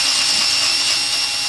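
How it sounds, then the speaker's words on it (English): A power drill whines steadily and loudly while slowly boring a hole down the center of a seized stud during a 12v VR6 engine build, a constant high-pitched grinding drone with no pauses. "slowly going through, drilling a hole right down the center"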